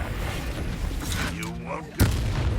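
A Confringo fire spell from the video game Hogwarts Legacy bursts loudly at about the two-second mark, a sharp explosive blast that rings on after a quieter stretch of rumbling ambience and whooshing sweeps.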